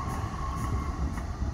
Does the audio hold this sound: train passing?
yes